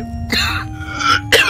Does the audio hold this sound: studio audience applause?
no